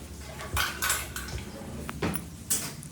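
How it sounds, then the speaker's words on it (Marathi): Dishes and cutlery being scrubbed and washed by hand in a home kitchen, with repeated clinks and clatters of metal pots and utensils in irregular bursts, close and moderately loud, no talking. "तर नंतर भांडी सगळी घासून घेतली"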